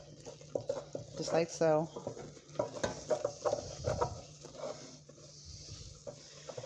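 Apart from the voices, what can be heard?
stirring flour into boiling water for eclair dough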